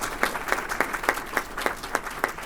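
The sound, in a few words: audience applause for panelists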